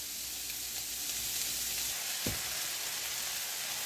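Food fries and sizzles steadily in a pan while breakfast is cooked, a constant close hiss with one brief thump partway through and no talking.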